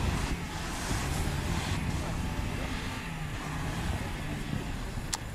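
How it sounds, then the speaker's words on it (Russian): An off-road vehicle labors through deep snow with a steady, heavy engine drone and rushing noise. A faint click comes near the end. "Тяжело по глубокому снегу, очень тяжело ехать"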